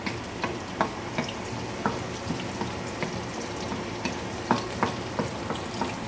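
Onion and garlic browning in a pan for bitter melon with eggs, a dense, steady sizzle with regular light clicks of a utensil stirring, close and loud, with no talk.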